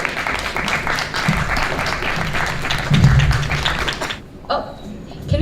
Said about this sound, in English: A round of applause for all the panelists here today.